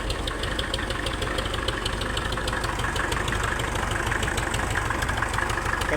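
Engine of an old Soviet-made tractor in Laos idling steadily, a continuous rough, knocking mid-to-low rumble held at even loudness throughout, close by with no talking.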